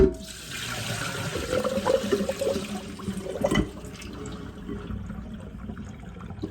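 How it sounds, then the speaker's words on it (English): Water splashes and trickles as it is poured out, with a brief louder gush in the middle before tapering to a quieter flow. "I'm going to pour this water out"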